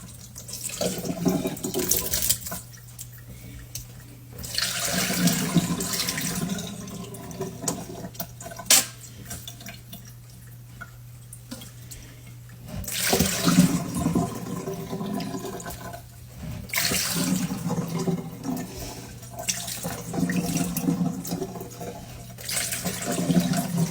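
Freshly picked blackberries washed under a running kitchen tap, with water streaming and splashing in bursts as the flow is interrupted and resumes, close and steady, with no talking.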